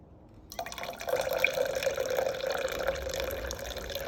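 After a brief quiet moment, hot cowboy coffee is poured slowly from a pot into a mug, a steady trickling stream with a rising tone as it fills.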